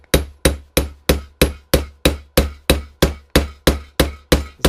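Steady hammer blows drive a camshaft bearing into a K-750 motorcycle engine during assembly, about fourteen sharp metallic strikes in an even rhythm, close and loud with no talking.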